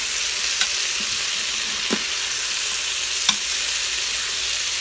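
Chicken browning in a hot Instant Pot gives a steady, soft frying sizzle with a few light stirring scrapes. No one speaks.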